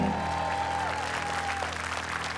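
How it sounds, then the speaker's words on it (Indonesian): Studio audience applause for the panelists of a television singing game show, a steady dense wash of clapping that holds at an even level throughout, with a faint sustained musical tone underneath and no talk. "tepuk tangan dulu buat para panelis"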